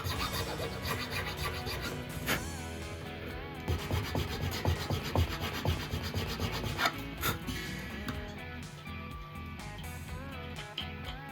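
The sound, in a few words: filing a guitar nut slot with a file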